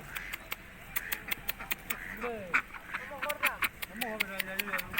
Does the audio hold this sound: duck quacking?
yes